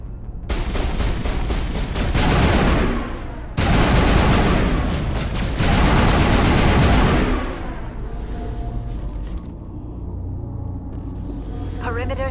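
Heavy, loud gunfire in Mass Effect Legendary Edition comes as dense bursts of automatic fire with rumbling booms, in several waves that fade into a quieter tail.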